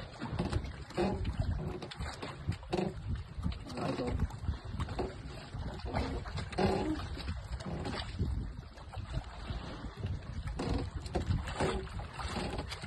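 A boat's motor drones steadily as it circles across open water while fishing for diamond trevally, with breezy wind and people talking over it throughout.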